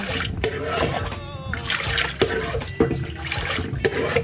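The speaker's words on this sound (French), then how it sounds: "premièrement, j'ajoute mon eau" Water pours from a tap into a cooking pot for a sauce in a home kitchen, a close continuous splashing rush with a few clanks, mixed with a voice speaking.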